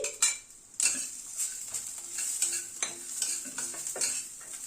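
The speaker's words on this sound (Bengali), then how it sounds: "এই মিনিট খানিক একটু নাড়াচাড়া করার পরে কিশমিশটা দিয়ে দিচ্ছি" Raisins stirred into hot ghee in a pan give a steady close sizzle, with a spoon scraping and clinking against the metal at irregular moments.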